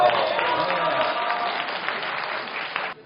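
Audience applause at a special lecture, a dense continuous clapping from a room of students, loud and steady before cutting off abruptly near the end, with faint voices underneath.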